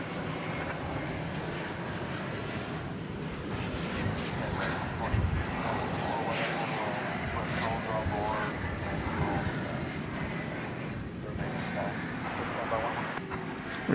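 A jet airliner roars on the runway at DFW Airport during a rejected takeoff, a sustained broad engine rumble with a high whine, heard from a distance alongside people talking.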